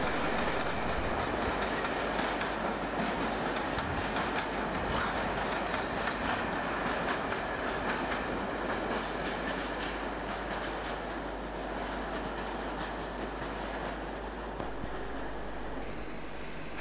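British Rail Class 86 electric locomotive departing London Euston with Mark II coaches on the 1700 to Manchester Piccadilly, a steady broad rumble of wheels and rail clatter with faint squeals, sustained and fairly distant.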